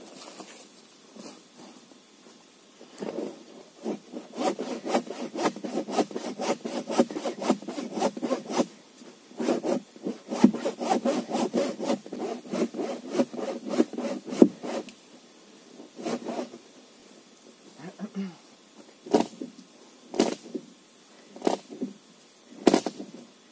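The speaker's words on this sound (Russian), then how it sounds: "Хочу вот этот кусочек отпилить, оттянуть, чтобы проехать." A hand saw cuts through a fallen wooden log on a forest track, producing steady rhythmic rasping strokes, close by, with no talk, slowing to scattered single strokes toward the end.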